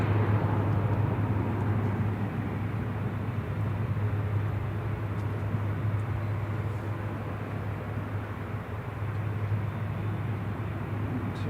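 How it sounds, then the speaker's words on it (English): A propeller aircraft at Manchester Airport drones steadily in the distance, a low, even hum that holds for the whole stretch without any voices. "Very quiet for the props, unlike when they're on this side."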